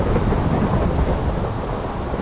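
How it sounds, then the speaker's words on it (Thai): Rain and thunder in Minecraft, a dense continuous roar of falling rain with low rumbling underneath, steady and loud throughout with no talking. "ฝนก็ยังตกอยู่นะ"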